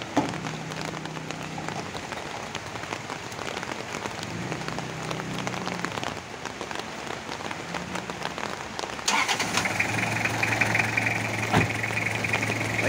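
A Toyota 2L diesel engine in a Toyota Revo cranks and starts after a starter repair, settling into a steady, loud idle clatter over the sound of rain falling on surfaces.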